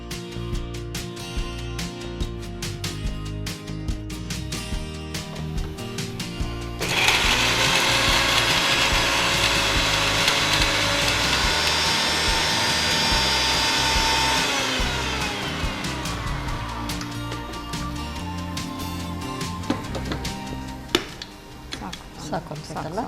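Mixer grinder grinds ingredients for a methi paneer bath dish, a loud harsh whirring burst from about 7 to 15 seconds under kitchen clatter, with people talking before and after.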